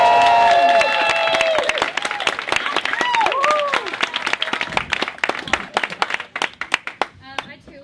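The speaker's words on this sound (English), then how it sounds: "big round of applause for Sierra!" A comedy club audience at a stand-up showcase gives a comedian a burst of applause. The dense clapping and cheering gradually thins into scattered, separate claps, heard over a fading tone.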